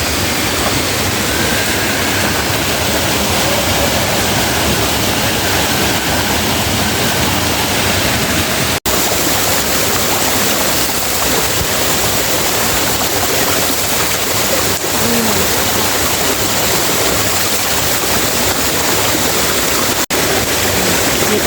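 Cold river water rushes steadily at a rural provincial bathing spot, a loud, unbroken broadband roar like a small cascade that fills the scene without voices.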